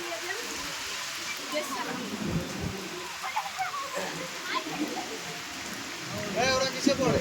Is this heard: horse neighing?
no